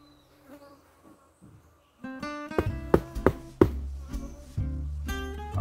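Quiet at first, then dense honeybee buzzing swells up close inside a hive, humming and fluctuating with sharp surges in pitch and loudness.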